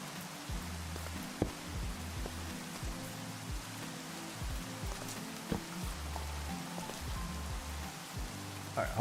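Rain in a modded Minecraft world, a steady patter of drops on surfaces with soft thumps and occasional louder taps, continuous and close, with no talk over it.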